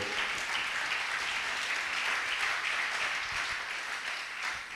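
A church congregation breaks into loud, sustained applause, with many hands clapping at once in a dense, even roar that lasts the whole stretch and only eases slightly near the end.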